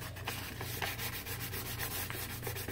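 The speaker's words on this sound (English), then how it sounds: "This one actually really does need some good sanding help." Sandpaper rubs quickly back and forth on a handmade knife, a steady rasping scrape with rapid regular strokes, close and alone.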